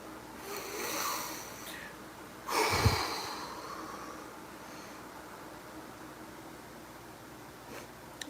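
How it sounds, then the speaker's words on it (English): One deep, breathy inhale and exhale, close and fairly loud, rises out of quiet background hiss, with softer breathing before it. "Take a deep breath."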